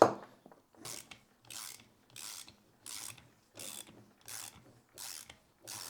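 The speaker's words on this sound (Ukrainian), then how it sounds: "Тріщітка це я люблю насправді цей звук" A ratchet wrench clicks in quick bursts as it tightens long threaded studs while fitting an Italian Segment MT500 swing-gate operator, each stroke a crisp close rattle followed by a short pause, repeating steadily about eight times.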